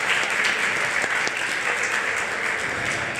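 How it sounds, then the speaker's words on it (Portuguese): A church congregation at a youth fellowship gathering applauds loudly and steadily, a dense wash of clapping that fills the whole stretch without pause or talk. "Aplausos a Jesus pela irmã Melissa Fernandes."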